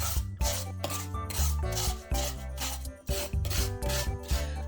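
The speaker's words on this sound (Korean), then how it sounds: "그러면 포크로 긁어서 다시 냉동고에 넣어줍니다." Rhythmic rasping scrapes of a fork scraping partly frozen milk ice, repeated in quick strokes at close range with no talking.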